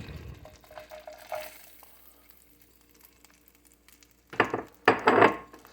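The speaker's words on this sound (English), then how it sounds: "But first we're going to saute this garlic" Garlic sautéing in melted butter in a pan, a soft sizzle with light stirring that rises to louder bursts of frying near the end, with no one talking.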